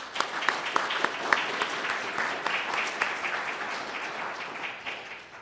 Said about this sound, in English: Let's get a round of applause for these finalists.